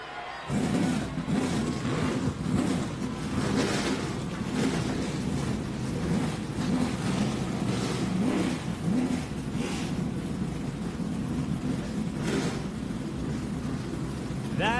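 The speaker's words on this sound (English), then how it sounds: "Drivers, start your engines on 3" SMART Modified race car engines firing up together at Carteret County Speedway, a dense, loud rumble of several engines idling and revving in bursts, with scattered crowd noise around them.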